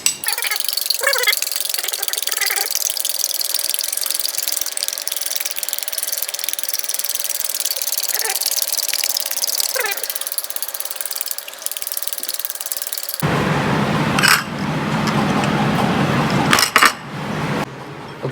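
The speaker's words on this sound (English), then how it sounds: "You want to beat your egg whites for as long as you can so that the final product comes out" Egg whites are beaten in a bowl for French toast, a steady close whirring and clicking whisk sound that continues throughout, with louder clattering near the end.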